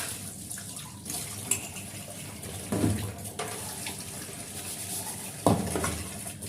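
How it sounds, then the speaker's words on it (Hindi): Dishes being washed in a kitchen sink: running tap water with clinks of pots, plates and cutlery and a few louder clatters, steady and close, without any voices. "और अब हम आ गए हैं सिंक में बर्तन धुलने के लिए"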